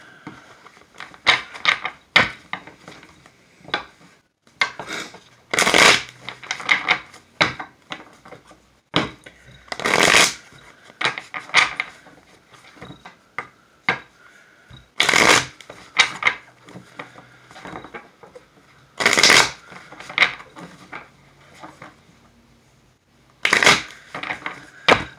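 Tarot cards being shuffled by hand, a run of crisp riffling and sliding bursts in repeated bouts, with several louder card-flurry peaks standing alone without talk.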